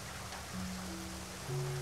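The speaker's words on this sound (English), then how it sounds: "I will add some ambient sounds, maybe a rain." Steady, soft rain hiss fills the background, with faint low tones sustained underneath.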